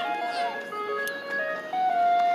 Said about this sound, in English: Okay, the ice cream truck is coming.